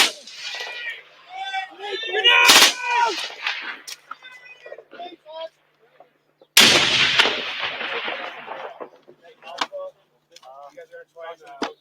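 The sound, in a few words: gunshots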